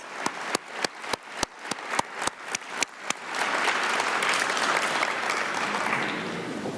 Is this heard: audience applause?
yes